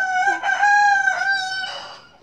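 A rooster crows close by in a farm setting, a long loud cock-a-doodle-doo with sustained strained notes and harmonics, ending in a brief squawk at the end.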